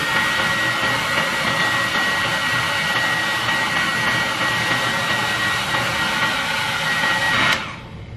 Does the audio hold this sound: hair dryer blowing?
yes